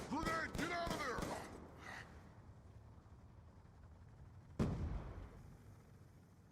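A grenade goes off in Black Ops 2, a single sharp blast of mid-range loudness arriving after several seconds of quieter ambient game noise, with a burst of voices just before it.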